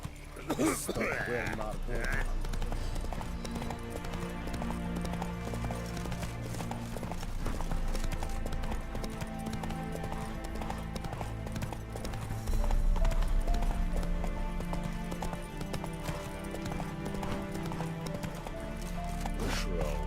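Hooves of the horse Roach clip-clopping in a steady galloping rhythm in a video game, beneath a game soundtrack and spoken character dialogue, with a brief whinny near the start.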